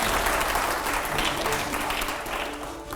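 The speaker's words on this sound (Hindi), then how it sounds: "पहले जोरदार तालियां यहां पर दिखाइए" A TV studio audience claps loudly for a few seconds, a dense burst of applause that slowly tapers off.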